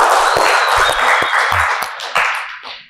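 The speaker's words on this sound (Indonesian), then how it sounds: "Boleh tepuk tangan pemirsa ya." Audience applause fills a TV studio during a talk show, dense steady clapping at full volume that fades out toward the end, with no talk over it.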